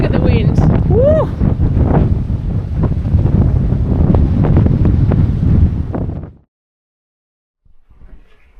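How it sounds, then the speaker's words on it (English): Strong gusting wind of up to 40 knots on a sailboat at anchor off Malta, roaring and buffeting the microphone under a voice and a whoop, then cutting out abruptly before a faint return. "Look at the wind."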